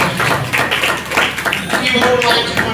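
Church congregation clapping hands at a parish gathering, scattered claps heard under someone speaking loudly over a microphone.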